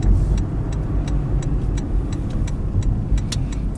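A car rolls into a parking lot by an AutoZone near diesel pumps in Florida, its engine a steady low rumble with faint ticking, loud and close throughout with no talk.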